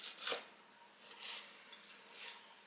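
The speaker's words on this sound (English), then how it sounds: "Keith is now slicing up our green onions" Green onions sliced with a knife on a cutting board during Christmas holiday cooking, three faint, crisp cuts spaced about a second apart in a quiet kitchen.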